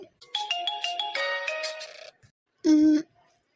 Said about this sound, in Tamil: ஃபோன் ரிங் ஆகுது